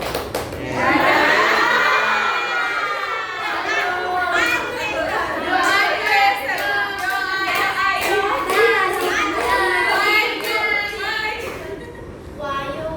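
A group of students doing a clapping game, with rhythmic hand claps in counted bursts mixed with voices chanting and chattering throughout, loud and close.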